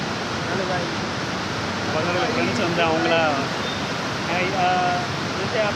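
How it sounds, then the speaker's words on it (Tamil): A steady broad roar of a waterfall near the Punjab border in the Jammu region fills the scene continuously, with people talking over it. "இது அருவியை பார்த்துக்கிட்டு இருந்தேன்."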